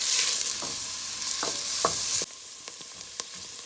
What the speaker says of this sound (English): I'm going to saute the onion and then we will add the other ingredients.